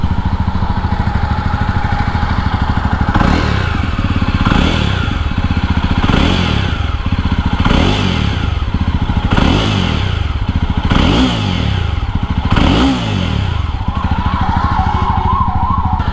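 Jawa 42 version 2.1 single-cylinder motorcycle idling loudly up close, its steady thumping exhaust note broken by a series of rhythmic throttle blips that rise and fall roughly every second and a half.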